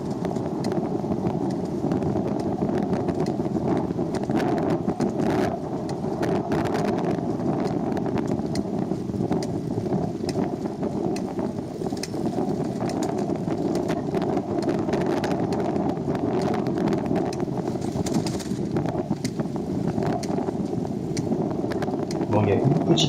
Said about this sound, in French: Avec toujours beaucoup de vent